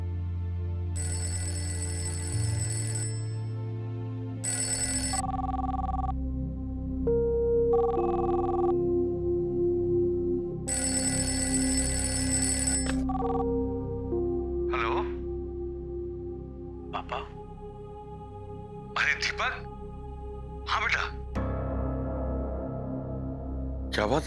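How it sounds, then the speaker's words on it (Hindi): A telephone rings late at night in a household setting in a Hindi family drama, with repeated bursts of ringing over a sustained background music score. "इतनी रात गए फोन?"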